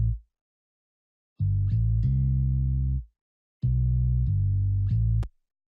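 A hip-hop bassline sample from a bassline sample pack plays back in FL Studio 12.3 for an old school rap beat, giving two sustained, loud, deep bass phrases separated by a short silence, with no talking.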